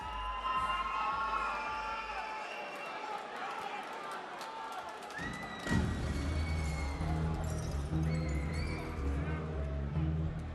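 Fans cheer and shout through a noisy cage fight arena, a steady crowd roar with whistles and scattered voices that swells louder around the middle and stays dense to the end.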